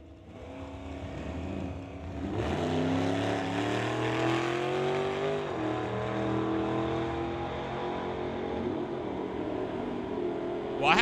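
Drag race at Mission Raceway between a Chevelle and a 1966 Acadian Canso: engines rev up and roar down the strip with rising tones, loud and sustained after a quieter start.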